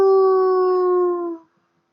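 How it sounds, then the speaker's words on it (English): A dog gives one long, loud, close howl lasting over a second, holding steady and then fading out into silence. "Yeah, this is my howl."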